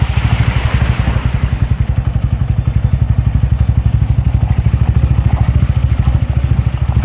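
A motorcycle engine thrumming up close in a fast, steady pulse as it rides along the NH 66 highway near Kannur, with rattling and clatter over the rumble.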